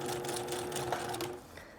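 A sewing machine runs a short burst of steady rapid stitching while sewing a puff sleeve seam, fairly quiet and close, then stops near the end.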